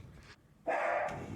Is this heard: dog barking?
yes